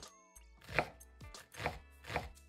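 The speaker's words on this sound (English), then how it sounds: "cut the onion in half, remove that paper, and then slice it once horizontally" A knife slices through a halved onion on a cutting board in three crisp, evenly spaced chops, each a sharp close thud with a brief crunch.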